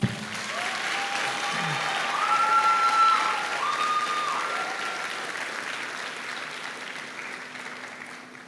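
An audience at a school graduation ceremony claps in a steady wash of applause at moderate volume, rising slightly then tapering off, with some faint tonal sounds over it.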